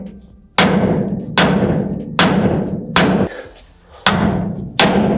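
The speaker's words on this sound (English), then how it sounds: "let's see if we get lucky and we can just smack it off with a hammer" Hammer blows smacking a bump stop off the frame of a square body C10 truck during a flip kit install: six loud, sharp metallic strikes at a steady pace, each ringing briefly before the next.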